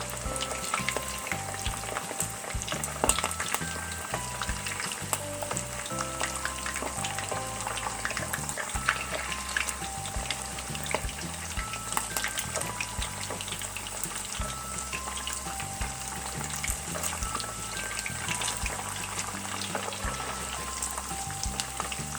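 Salmon belly coated in keto garlic-pepper batter deep-frying in oil, a dense, continuous crackling sizzle with rapid popping bubbles that holds steady and close throughout.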